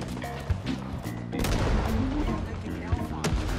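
Pistol gunshots in the shooter game Rising Storm 2, several sharp cracks spread unevenly over a dense, loud battle backdrop with other weapons firing.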